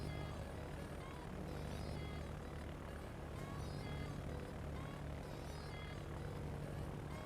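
Aircraft engines droning in the World of Warships naval game, a steady low propeller hum with faint tonal whine sustained evenly throughout, fairly quiet and continuous with no clear voices.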